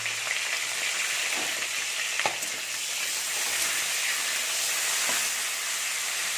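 Rohu fish fries in a pan in a village kitchen, giving a steady, close hiss of hot oil with a few faint clinks and pops scattered throughout.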